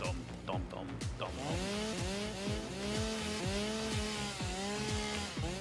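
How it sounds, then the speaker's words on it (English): A chainsaw engine runs close by, revved in a regular rhythm of rising and falling whines, loud and continuous throughout. "Alright, chainsaw time."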